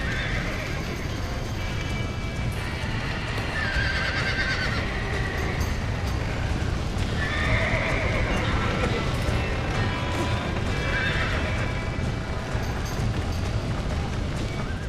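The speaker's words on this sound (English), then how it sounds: "Get that horse back! Get it moving! Back that dumb horse!" Several horses in Red Dead Redemption whinny loudly over a constant pounding of hooves, with a steady dense background din throughout.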